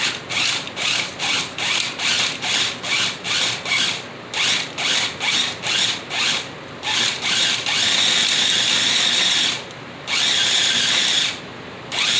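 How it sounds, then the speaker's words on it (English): A small food processor grinds strawberry crumble shortcake crumbs in short, repeated pulses, then runs in two longer continuous bursts, loud and close, with no talking. "My little processor was acting up, so I wanted to stop it. I didn't want to bore you guys with that, but just gonna grind it up."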